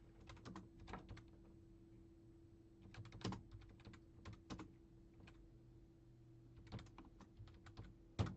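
Computer keyboard keys clatter in quick bursts of typing separated by short pauses, close and fairly quiet over a low steady hum, with no talking.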